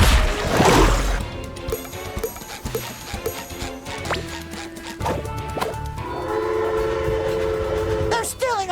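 A train in the SpongeBob SquarePants: The Cosmic Shake video game, heard as loud rhythmic rolling and clattering with tonal horn-like blasts layered over a game soundtrack, sustained throughout.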